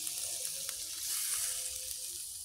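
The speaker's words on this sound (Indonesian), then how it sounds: "Kita tambahi airnya" Eggs fry in a pan for pesmol with water just added, giving a steady loud hiss and bubbling sizzle up close, without speech.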